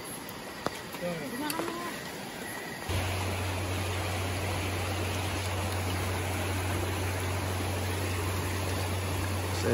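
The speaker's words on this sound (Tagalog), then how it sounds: "So ito yung lagay ng ilog ng Skyler." Broad rushing water of a swollen river at Schuyler campsite in Quezon during heavy rain, a dense continuous wash that swells up after a few seconds and holds steady and close, with a low hum underneath.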